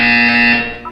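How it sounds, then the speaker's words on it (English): A loud, harsh electronic buzzer in the Portal 2 video game sounds as one steady tone for most of a second, then cuts off. "You will hear a buzzer. When you hear the buzzer, look up at the ceiling."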